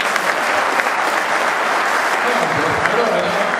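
A crowd at a rugby award ceremony, the Oscar Midi Olympique presentation, claps loudly and steadily in sustained applause, with voices faintly mixed in beneath the clapping.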